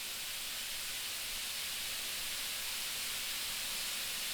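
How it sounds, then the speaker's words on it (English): Food searing on a Himalayan salt brick gives a faint, steady hiss of sizzling that stays even throughout, with no voices. "So you can hear it sizzling."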